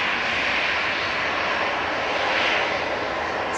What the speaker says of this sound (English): EasyJet departing next.